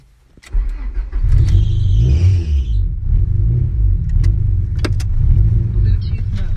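A rebuilt Honda Prelude on a test drive gives a steady, loud low engine rumble and road drone that holds for the whole stretch after a quiet start. A few sharp clicks and faint voices sit on top.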